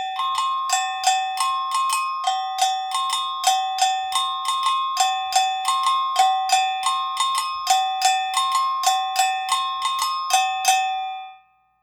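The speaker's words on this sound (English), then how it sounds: "There are various patterns that you play on Agogo bells." An agogo double bell plays its primary Brazilian percussion pattern, alternating two metallic tones in an even, steady rhythm of about two dozen clear strikes, played alone and close.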